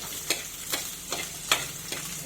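Masala fries in a pan for squid roast, a soft steady sizzle broken by regular scraping stir strokes about every half second, close by.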